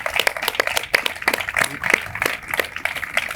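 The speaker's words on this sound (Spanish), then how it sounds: "Santiago Armesilla y Fernando Díaz Villanueva también se merecen un aplauso." Applause breaks out at a televised Spanish debate on Hispanidad, with sharp separate hand claps spreading irregularly across the room, moderately loud and mixed with a few voices.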